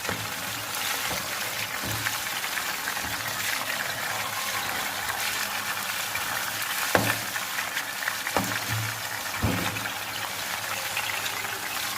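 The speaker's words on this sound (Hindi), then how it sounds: "अभी चिकन फ्राई करती हूँ।" Chicken pieces frying in hot oil in a pan for a chicken kabsa, a steady close sizzle with a few louder spits and stirring knocks.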